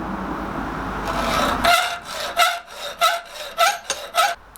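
A hand saw cuts through the knuckles of a metal hasp for a rice chest, giving about seven loud, rhythmic rasping strokes close by after a brief softer scrape.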